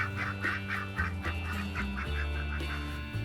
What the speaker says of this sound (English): On August 26th, Spot and Mask the ducks turned 1.